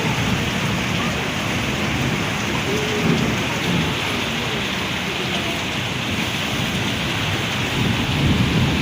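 Nighttime rainstorm with thunder lashing a house, a loud continuous roar of rain with low rolling rumbles of thunder underneath that runs unbroken throughout.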